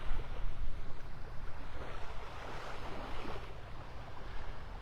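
Calm, gently lapping ocean waves at Vanderbilt Beach in Naples, Florida, at an outgoing tide, a steady soft wash of surf with some breezy wind noise and no talking.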